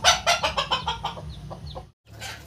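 Desi chicks peep in a rapid, loud run of shrill calls while a hen hatches her eggs, followed by a brief silence and then softer calls.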